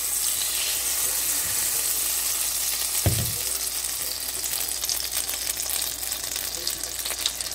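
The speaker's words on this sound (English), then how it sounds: "Oil is hot. We're dropping the butter in." Butter dropped into a hot oiled skillet before steak or turkey taco meat goes in, producing a continuous loud frying sizzle with a brief low thump partway through as it hits the pan.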